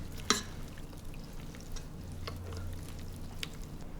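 Sliced beef tossed and coated in a bowl makes faint, close, wet clicks and light scrapes, irregular and soft, with one sharper knock near the start and a quiet background hum.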